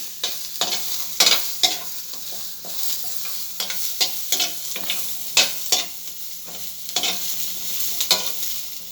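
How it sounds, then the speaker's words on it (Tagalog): Lechon kawali stir-fried with onion and garlic in a little oil: repeated scraping spatula strokes over a steady hiss of frying, close and fairly loud, with no talking. "Gisa natin sa sibuyas tsaka bawang yung lechon kawali."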